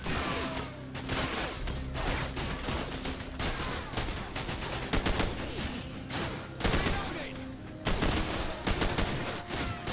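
Dense, continuous gunfire from a Call of Duty MW mod, with overlapping rapid bursts and single shots cracking loud and close throughout, like a crowded firefight with no pause.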